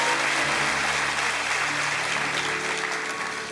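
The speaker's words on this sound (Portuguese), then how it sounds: "Aplaude mais forte, toca para o Senhor." Church congregation at a Brazilian conference applauding loudly in a sustained burst of dense clapping that tapers slightly toward the end.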